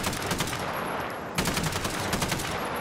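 Enemy gunfire rattles in rapid bursts during a COD Warzone match, a run of sharp automatic shots, a brief lull, then more volleys, loud and close with no talk over it.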